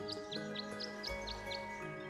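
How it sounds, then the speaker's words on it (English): Birds chirp by a bird bath in the Tangle Tower video game, a bright repeating tweet recurring about every quarter second over a steady musical background, with no talking. "The birds seem to like it. They're even singing a little tune."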